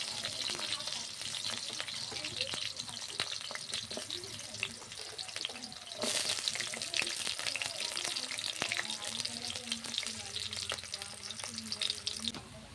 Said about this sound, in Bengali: এবার দিয়ে দেব রসুন আর আদা কুচি। তেলে ভেজে নেব একইভাবে।